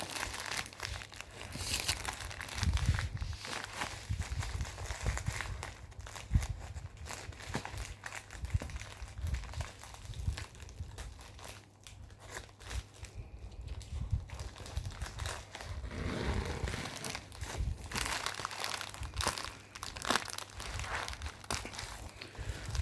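Unboxing a package holding an HRD-905 emergency alert radio: close, quiet crinkling and rustling of plastic and cardboard, with scattered tearing and handling taps throughout.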